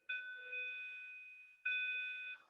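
Two clear electronic bell tones ring in succession, each a pure sustained chime that decays slowly, the second starting just as the first fades, with no talking.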